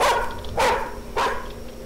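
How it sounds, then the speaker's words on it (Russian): A dog barks three times in a driving scene of the video game The Karaoke, sharp close barks spaced about half a second apart over a steady low engine hum, with no talk. "Собаку, успокойте, я ее задавлю нахер"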